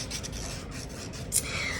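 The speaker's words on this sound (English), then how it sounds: "let's get this mixed in really well" Epoxy resin mixture stirred in a cup for a larimar-style resin piece, a continuous rasping scrape with a steady rhythmic rub and one sharper tick near the end, close and alone.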